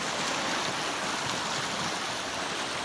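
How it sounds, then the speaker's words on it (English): Heavy rain and a flooding creek in Eastern Kentucky make a steady, dense rushing wash of water that holds evenly loud throughout, with no voices. "So this is what the rain looks like now."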